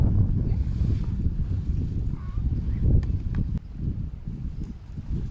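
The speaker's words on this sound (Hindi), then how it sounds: "अभी भी काफ़ी ज़्यादा हवा चल रही है" Strong wind buffets the microphone at a beach, a loud, continuous low rumble with gusting swells and brief dips, and no clear talk over it.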